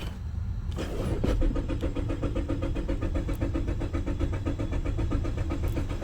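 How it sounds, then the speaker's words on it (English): A 2017 Mazda CX-5 with a 2.5L engine, fault code P0192 and long crank time, cranks with a loud, steady rhythmic churn of the starter that runs continuously after a short quiet start, with no voices. "Go ahead and crank it."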